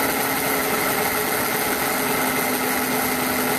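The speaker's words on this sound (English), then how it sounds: "we're only running the dyno at half power" An eddy current dynamometer built for a Formula SAE engine runs under load at half power, producing a loud, steady mechanical whine and hum that holds without a break.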